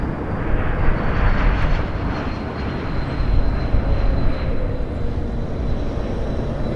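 A jet airliner lands at Toronto Pearson airport at night in winter. Its engines give a continuous, loud roar that swells slightly and holds steady, with no talk.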